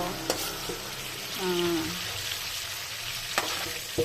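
Spices for sinigang na bangus sizzle and fry in a pan, a steady crackling hiss with a few clinks of a utensil stirring against the pan.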